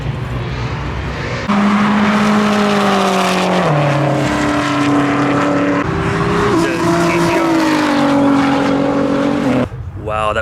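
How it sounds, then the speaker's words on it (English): A Subaru STI race car tearing past at a track day event, its engine loud and close with rising and shifting whine across gear changes. Some voices are mixed into the roar. "Wow, that was 1100 horsepower. Nice Subaru STI."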